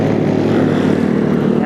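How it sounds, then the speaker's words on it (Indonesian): Motorcycles with loud open brong exhausts roar during a windy uphill touring ride toward Lake Lindu, a dense, steady engine drone with buffeting wind close to the mic. "apalagi orang-orang yang pakai knalpot brong ya."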